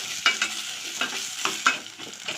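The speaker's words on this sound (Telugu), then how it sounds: "కాకరకాయ చూపిస్తున్నాను కూడా ఈ విధంగా వేయించుకోవాలి" Bitter gourd frying in oil with fenugreek seeds, giving a steady soft sizzle broken by several sharp scraping stirs of the pan, close and clear with no talking.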